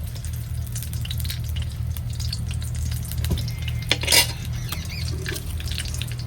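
Dried red chillies sizzling in hot mustard oil in a pan, a steady crackling fry with a low hum beneath and a few brief louder pops.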